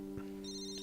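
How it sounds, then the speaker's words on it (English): A phone rings once with a short electronic ringtone, fairly quiet and heard on its own. "when my phone begins to ring."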